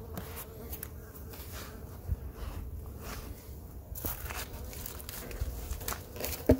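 Honeybees buzzing at their hive during a quick check-in, a steady moderate hum with occasional faint handling crackles and soft thumps, no talk.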